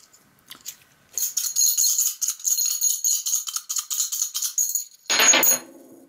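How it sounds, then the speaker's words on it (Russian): Small coins shaken and tossed for an I Ching reading, a steady metallic rattling that lasts several seconds and ends in a louder clatter as they land. "Сейчас мы будем кидать монеточки."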